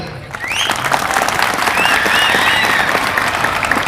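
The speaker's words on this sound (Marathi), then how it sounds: "एकदा जोरदार टाळ्या वाजायला पाहिजे" Loud, dense applause from a lecture audience in Nevasa, sustained for the whole stretch, with a few whistles and whoops rising above the clapping.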